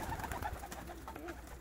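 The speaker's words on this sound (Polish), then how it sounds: "Mało gołębi." Pigeons cooing softly in a loft, a few faint low coos repeating over quiet background.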